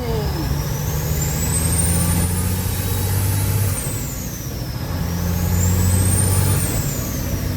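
A Kenworth W900 truck with a Cummins M14 engine revs twice nearby, its loud diesel pitch climbing and falling in two long sweeps over a constant heavy idle rumble.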